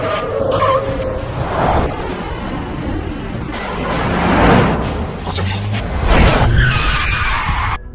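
A film car chase: tires screech and skid loudly over a roaring engine, with the squealing rising and falling through the whole stretch amid dense action-scene noise.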